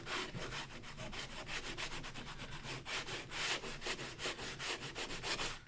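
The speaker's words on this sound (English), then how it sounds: "go ahead and just give this a light sanding and kind of scuff out some of the air bubbles and such" A sanding block rubs back and forth over a sealed, oil-finished pallet wood mirror frame, a steady rhythmic scratchy swish repeating quickly and close, with no talk.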